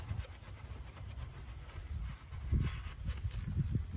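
A cloth wipes and scrubs a BMW X3 N52 Valvetronic engine part during a seal replacement, close, soft rubbing strokes in an uneven rhythm.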